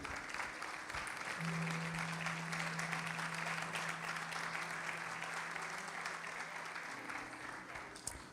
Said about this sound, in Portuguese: Pode se assentar, aplaudindo ao Senhor